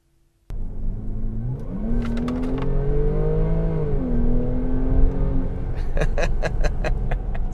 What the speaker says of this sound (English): I love that exhaust note